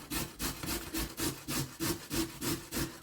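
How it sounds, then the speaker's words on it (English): A carrot grated on the larger side of a grater, held at an angle, producing close, rhythmic rasping strokes at roughly three per second, alone with no talk. "And then I am going to grate it on the larger part of the grater."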